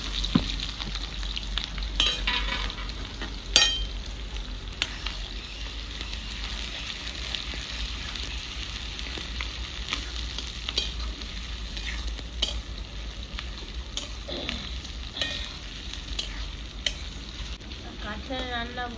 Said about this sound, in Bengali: কাটা পেঁয়াজ দিয়ে দিচ্ছি চিকেন নেহারিতে